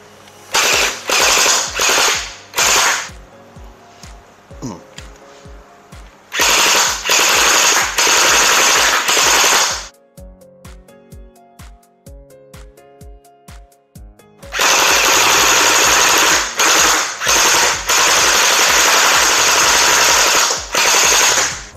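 An electric gel blaster toy gun fires in long full-auto bursts, loud rapid buzzing rattles lasting several seconds each, separated by quieter pauses with softer single clicks.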